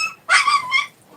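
A dog lets out a single close, loud whimpering yelp that bends into a short bark, alone, with no voices over it.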